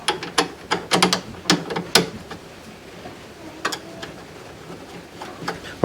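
A ratchet clicks in quick bursts of sharp ticks, tightening the tie bar nut on a Classic Mini during reassembly, close and loud with short pauses between runs of turns.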